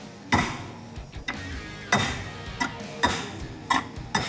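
A ball peen hammer strikes a stuck, seized brake drum on a 440 Dart, about eight sharp metallic taps at an irregular pace, close and loud, with short ringing decays and no talk.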